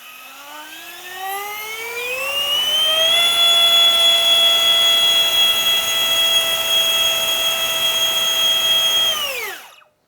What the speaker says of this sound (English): I'm gonna run the first test with the open propeller so we can see how much it pushes and how much noise it makes.